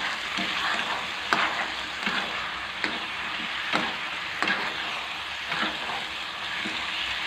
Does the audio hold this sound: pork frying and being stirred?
yes